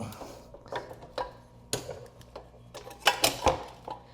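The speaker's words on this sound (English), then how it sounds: "Let's pull the swing arm out." Swingarm being pulled out of a Suzuki GS750 motorcycle: a string of close metallic clicks, clanks and scrapes at an irregular rhythm, with a few sharper knocks near the end.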